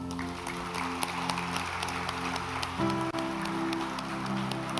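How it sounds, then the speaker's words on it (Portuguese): Church congregation applauding to honour women on International Women's Day, a steady wash of many hands clapping throughout, with sustained musical tones underneath that shift partway through. "Como igreja, nós queremos honrar vocês, dando uma salva de palmas em sinal de honra"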